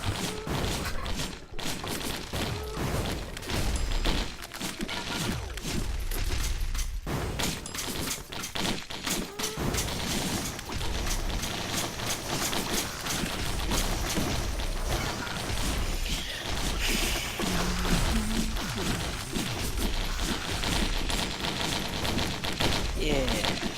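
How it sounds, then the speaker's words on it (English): Explosions and rapid gunfire in the video game Risk of Rain 2 make up a dense, continuous barrage of thumps and crackles, loud throughout, with players talking over the action. "I love explosions."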